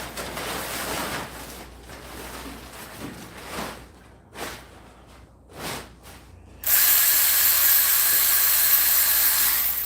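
A ratchet wrench clicks in short bursts while a part is worked off a Troybilt tiller, nearby and fairly loud, before a steady broadband hiss takes over for the last few seconds; no one talks.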